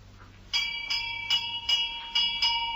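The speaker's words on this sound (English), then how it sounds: "She ran up the steps, carrying her weekend case, and rang the doorbell." A bright electronic doorbell chime rings six times in a steady rhythm, each tone clear and ringing briefly before the next, with no talking.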